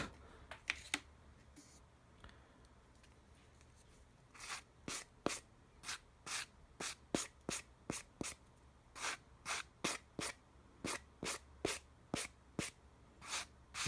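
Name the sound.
applying leather edge coat paint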